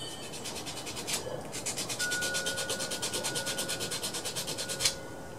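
A lawn mower's ignition contacts being scrubbed with a tough, cloth-backed piece of sanding belt, a close, steady back-and-forth rasping stroke repeated rhythmically for several seconds under a faint steady tone.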